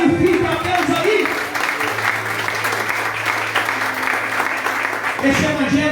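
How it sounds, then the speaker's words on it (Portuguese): A church congregation breaks into sustained applause during a sermon, a dense, steady wash of many hands clapping at once, with a low hum underneath and voices returning near the end. "Aplaude e glorifica a Deus aí."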